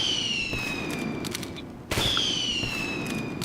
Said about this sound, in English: if you right click, you can cause the flare to detonate, hitting multiple people or a person around a corner